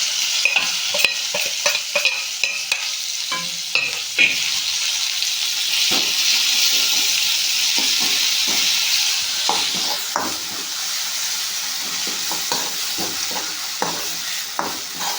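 Green chillies fry with a paste in a hot pan, a loud continuous sizzle broken by repeated scraping clicks of a stirring spoon, close and with no talk.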